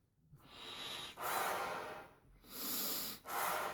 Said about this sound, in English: I'm just blowing in, breathing in a lot of air all the way up, and then blowing it out.